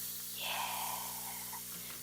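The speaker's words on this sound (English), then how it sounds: "add my chilies. Listen for that sizzle." Chilies sizzling in hot oil in a pan for Mexican rajas con papas, a soft, steady frying hiss with faint crackle over a low background hum.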